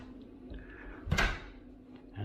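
A small landing cupboard door in a house swings open or shut with a single brief knock and rattle, close by in a quiet hallway, its hum of room tone resuming after.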